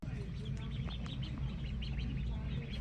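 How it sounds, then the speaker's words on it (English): Small chicks or ducklings peep and call in a busy cluster of high chirps over a steady low rumble, with a voice speaking nearby, at a forest cabin in the Bighorn National Forest. "Oh my gosh, they're so cute. Look at the little chickies."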